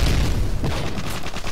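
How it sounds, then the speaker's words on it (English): A grenade explosion in Modern Warfare 3 lands as a loud, booming blast with rumbling low energy, followed by a scatter of sharper cracks and gunfire-like bursts close by. "I'm just gonna cook this grenade"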